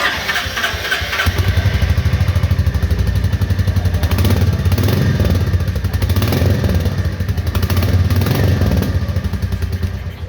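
A 2024 Royal Enfield Meteor 350 motorcycle's single-cylinder engine fires up and settles into a steady, loud, close thumping idle that continues throughout.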